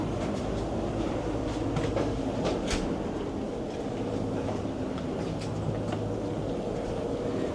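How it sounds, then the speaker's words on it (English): Continuous rumbling of a moving train in Chiatura, Georgia, with rhythmic clicks and rattles, steady and enclosed as if heard from inside a carriage. "What a beautiful train."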